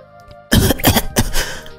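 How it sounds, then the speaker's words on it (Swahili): A single cough from a man in an audio drama, with a couple of rough, throaty bursts close by after a brief quiet moment. "Mara wakasikia kikohozi nje."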